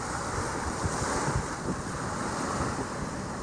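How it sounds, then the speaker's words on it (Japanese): A southwest wind blows across Malibu Beach in Onna, Okinawa, a loud, constant roar of buffeting wind over the microphone mixed with surf washing on the shore, with no talk. "南西が吹いてるってことは向こうからねこっちに向かって風が吹いてるんで"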